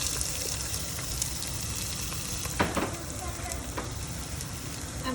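Half a white onion sizzling in hot olive oil in a soup pot for minestrone, a steady close frying hiss with a few stirring clicks and scrapes, no one talking.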